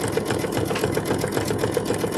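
A home sewing machine stitches fabric pieces for a quilted wall hanging, a steady rapid mechanical whirring and chattering close by, continuous and even throughout with no voices.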